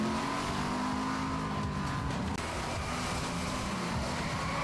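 An automated car in a scene from the NCIS episode 'Driven' drives with a steady engine drone and road noise, a continuous mid-level motor hum with a slight shift partway through.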